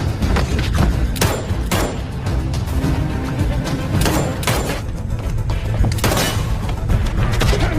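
Gunfire from an agent shooting in an action film: a dense run of loud, sharp shots and booming impacts repeating at irregular intervals over a heavy rumbling background, with no talk.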